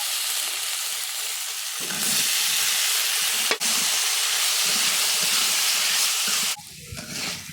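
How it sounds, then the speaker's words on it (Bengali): Atta flour frying in a pan with turmeric, salt, cumin powder and ginger-garlic paste, giving a steady loud sizzle and hiss that swells midway, with a brief clatter, then drops off near the end. "এখন ভাজবো আমি আটে।"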